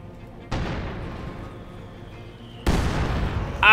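Heavy mortar rounds in the strategy game Company of Heroes 2 land as two sharp booming blasts with rumbling decay, followed by the start of another impact, all set against a quiet battlefield backdrop.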